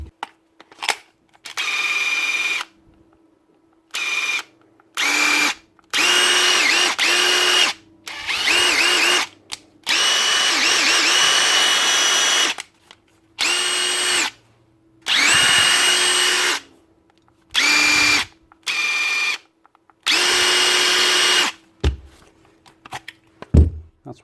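A Bosch GDX 18V-200 cordless impact driver with a faulty speed selector whirs in a series of short bursts separated by silence, close and loud, with steady motor whines of varying length.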